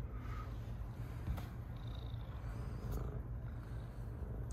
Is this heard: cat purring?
yes